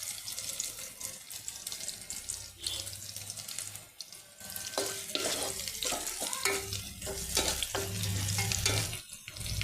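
Onions fry in a pan while being stirred, a continuous sizzle with scraping and clattering close by, plus splashy running-water-like noise throughout and no clear talk.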